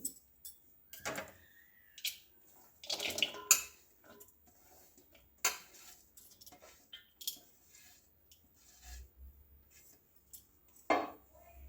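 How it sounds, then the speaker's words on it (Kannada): A spoon clinks and scrapes around a bowl as chopped onion, green chilli, coriander, salt and oil are mixed together, making quiet, intermittent knocks against the bowl separated by short pauses. "ಮೊದಲಿಗೆ ತರಕಾರಿಗಳನ್ನೆಲ್ಲ ಮಿಕ್ಸ್ ಮಾಡ್ಕೊಳ್ಳೋಣ ಬನ್ನಿ"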